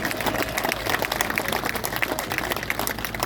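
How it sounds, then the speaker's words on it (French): Steady dense applause from a crowd at a political rally in France, many hands clapping continuously at an even level throughout. "bravo, on peut les applaudir aux organisateurs et aux bénévoles"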